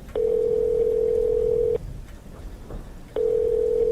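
A phone ringback tone during a call, two long steady electronic tones separated by a pause, loud and close over faint rain-like background hiss.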